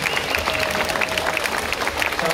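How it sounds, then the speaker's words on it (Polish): Dense, steady clapping from a concert audience, continuous throughout with a faint tone running underneath. "A dla was naprawdę wielkie brawa"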